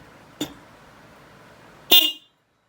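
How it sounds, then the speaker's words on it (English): Aftermarket HELLA low-tone horn fitted to a 2018 Honda Civic, heard as a short faint tap followed by one loud, brief honk up close, then silence. "so that is the hella horn"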